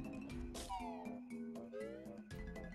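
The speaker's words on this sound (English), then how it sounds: "So what are these cats then?" Cats in the Banjo-Tooie video game meow repeatedly in a run of short, bright, rising and falling calls that overlap one another, fairly loud and close against a quiet background, with no speech.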